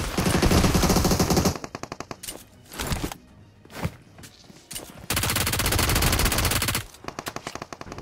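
Gunfire from the mobile battle royale game PUBG Mobile during a close fight near a church: long loud bursts of automatic fire broken up by single shots and short gaps, then another sustained burst.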